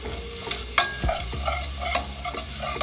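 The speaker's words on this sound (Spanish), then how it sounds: "Sofreímos por más o menos un minuto" Garlic and spices sauté in a hot pan with a steady sizzle, broken by a few sharp scraping stirs of a utensil against the pan, close and fairly loud.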